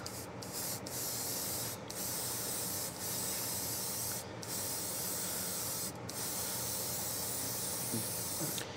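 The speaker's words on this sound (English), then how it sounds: "And spraying in the spray booth on the spray booth cam." Steady airbrush hiss of paint spraying, continuous with a few brief pauses between bursts, close and fairly loud, no voices.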